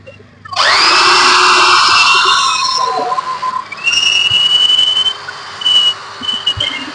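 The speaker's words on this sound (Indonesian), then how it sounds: "Membukanya di bor saja klipnya ini." A loud, high-pitched power drill whines steadily for a few seconds, then eases off into shorter bursts of whirring and squealing as it drills out plastic clips on a washing machine.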